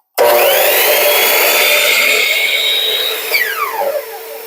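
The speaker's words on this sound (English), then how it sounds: "It turns on the shop vac, and that runs for 3 seconds after the power button is turned off." A shop vacuum starts abruptly and drones loudly and steadily alongside a miter saw cutting wood, the saw's whine sweeping down near the end while the vacuum keeps running, close and without talk.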